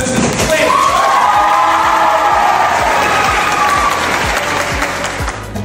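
An audience at a Year 12 leaving event applauds loudly and steadily for several seconds, with cheering and a few whoops mixed into the dense clapping.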